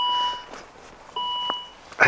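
A car's door-open warning chime sounds in short electronic beeps, two clear tones with a pause between, close and fairly loud inside a cold parked car, ending with a brief bump.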